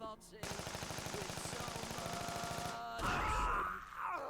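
Rapid chain gun fire in the video game YiiK, a fast, even burst of shots lasting a few seconds, followed by a louder booming impact and other game effects, with no talk.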